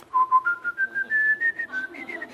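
A person whistles a short, clear melody of rising sustained notes, close and fairly soft, with no talking over it.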